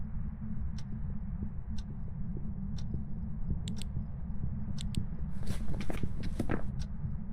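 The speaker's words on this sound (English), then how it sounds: "I don't know if those footsteps I'm hearing are downstairs or upstairs" Ghostly footsteps in the Phasmophobia video game, a slow, regular series of faint, muffled steps over a constant low hum, with a brief burst of other noise partway through and no talk.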